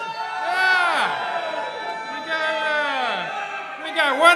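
Crowd at a live Simpsons-themed stage show cheers and whoops as figurines are tossed out, with excited voices and shouts rising and falling over a few seconds, swelling again at the end.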